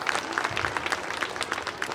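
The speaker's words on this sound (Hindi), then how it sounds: "आप सब तालियां बजाते रहिए" Sustained audience applause at a school annual-day poetry recital, dense hand-clapping filling the whole stretch steadily and fairly close, with no voices over it.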